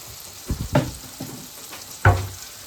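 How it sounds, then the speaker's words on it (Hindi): Tomatoes fry in a pan for baingan bharta, a soft steady sizzle broken by a few close scraping stirs and one louder clack near the end. "तो अभी टमाटर अच्छी तरीके से भून रहे हैं"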